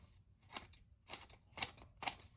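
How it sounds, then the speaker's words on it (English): Leatherman Free P4 multitool scissors slice through a sheet of paper in four crisp, evenly spaced snips, close and clear with quiet gaps between each cut. "All right, let's do some cutting, shall we? Here we go, piece of paper."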